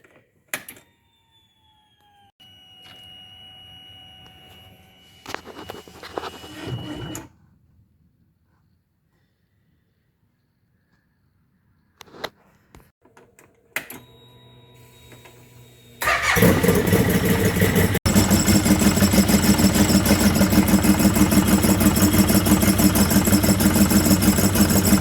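On a CFMoto ZForce 800, the fuel pumps whir in short bursts as the key is turned, then after a pause the engine cranks, starts and settles into a loud, steady idle.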